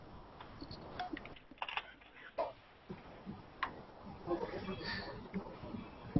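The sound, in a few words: typing on a computer keyboard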